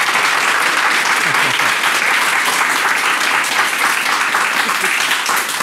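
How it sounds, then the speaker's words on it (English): Studio audience applause on a health program, a dense, loud, sustained roar of many hands clapping that stays even and continuous throughout, with faint voices buried underneath. "Let's give her a round of applause."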